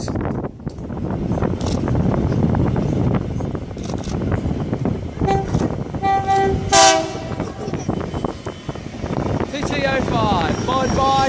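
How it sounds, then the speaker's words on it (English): A loud coal freight train hauled by TT class locomotives rumbles past close by with tonal horn-like blasts in the middle, while people talk over the noise. "National coal train now."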